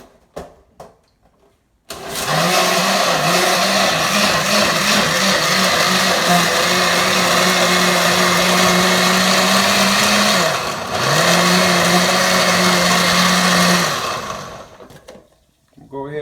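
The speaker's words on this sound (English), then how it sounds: "And then after that, all you do is just blend the sea moss." A countertop blender whirs loudly and steadily for about twelve seconds, blending soaked sea moss with water into a smoothie base, briefly dipping in pitch partway through before resuming, then stopping.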